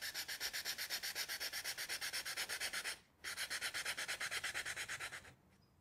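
A Perma-Grit tool cutting a 6mm slot in a piece of balsa wood makes close, fast, evenly paced back-and-forth rasping strokes, pausing briefly midway before resuming, with no talking.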